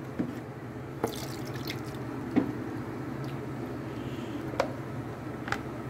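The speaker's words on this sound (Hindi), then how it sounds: "अब मैंने क्या करना है कि इसको अब दोबारा से मैं इसका पानी निकाल दूंगी" Water drains and drips from washed taro root (arbi), with a low running trickle and a few scattered drips and splashes. No one speaks.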